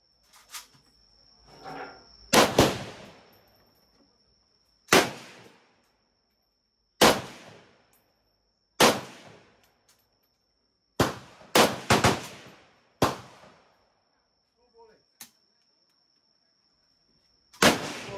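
AK-47 rifle shots at the Cu Chi tunnels shooting range in Vietnam ring out as loud, sharp single cracks spaced a couple of seconds apart, some in quick pairs, each with a short echoing tail and a faint steady tone between shots.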